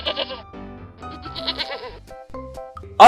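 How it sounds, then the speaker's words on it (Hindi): Goats bleat repeatedly in a Hindi animated comedy story, several wavering calls overlapping in quick succession, fairly loud and close, with a brief sharper sound at the end. "उसके बकरियां नंदन के पीछे जाते हुए दिखाई दिए"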